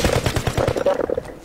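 Rapid automatic gunfire rattles through a video game shootout, a close, loud burst of evenly spaced shots that thins out near the end.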